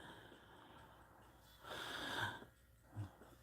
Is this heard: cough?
yes